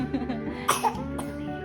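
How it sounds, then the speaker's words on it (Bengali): A short coughing fit, a few harsh close coughs and throat clearing in quick succession, alone without speech. "বাপ রে বাপ, কাশি উঠে গেল।"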